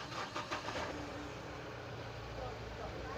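A Mahindra Bolero BS6 pickup engine cranks and fires, then settles into a steady mid-pitched idle, heard up close and fairly loud throughout with no talking over it.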